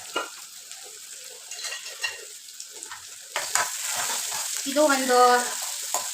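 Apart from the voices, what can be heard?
onions with salt frying in oil, being stirred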